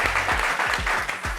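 Applause from a meeting audience cheering single mothers: a close, dense patter of clapping with a few heavier low thumps, filling the short moment without voices.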